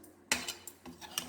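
A spoon scrapes and clinks inside a pot while vegetable kurma is stirred, giving a few quick, close, faint metallic taps and scrapes.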